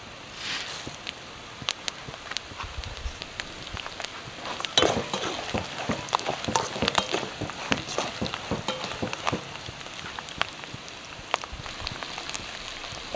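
Mustard seeds and cumin crackle in hot oil, giving a continuous fine sizzle dotted with many sharp pops and spits that come thicker in the middle, with no voice.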